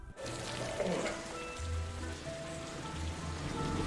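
Steady rain pours down on a surface, a dense continuous hiss of drops with faint low tones underneath.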